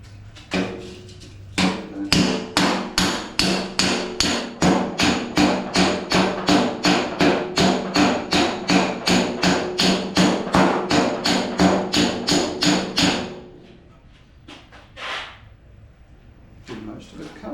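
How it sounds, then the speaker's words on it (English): Hammer striking a dolly while a dented Jaguar XK fender is worked, a fast steady run of sharp metallic blows close up that stops, followed by a few scattered taps and quiet voices. "that noise, or that pitch, means that I'm hitting on the dolly"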